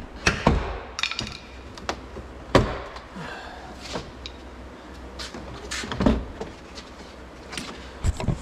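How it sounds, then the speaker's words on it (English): A plastic trim tool prying off the door card of a Vauxhall Corsa D VXR gives sharp clicks and snaps, several loud pops at irregular intervals over faint scraping and handling noise. "You just want to pop your trim tool in one of the corners."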